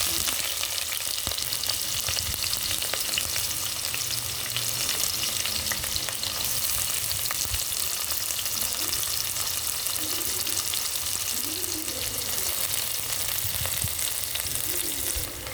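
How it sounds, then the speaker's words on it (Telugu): Sliced onions sizzle and fry steadily in hot oil for a drumstick, potato and cashew curry, a dense continuous crackle close by with faint stirring scrapes and no voices. "Already oil పోసుకున్నాను. ఇందులోని ఆనియన్స్ వేసుకుంటాను."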